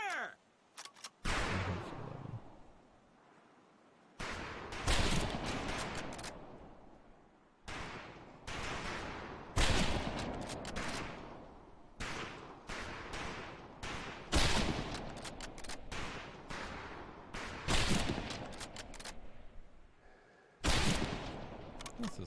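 Rifle volley on a firing range in Medal of Honor: Pacific Assault: a long run of sharp, loud gunshot bursts in irregular clusters, separated by brief quiet gaps, alone with no voices.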